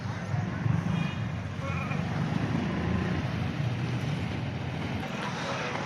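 Goats bleat over a dense, steady outdoor rumble, their calls blending into continuous background noise with people talking nearby.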